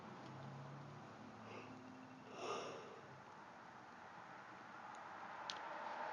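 A person gives a single breathy yawn partway through, fairly faint and brief, against a quiet background with no talking.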